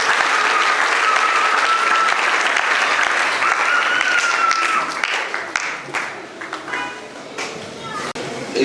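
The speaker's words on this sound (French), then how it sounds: "Est-ce qu'on peut acclamer?" A crowd applauds loudly at a wedding blessing ceremony, sustained dense clapping that thins out toward the end while a voice speaks over it.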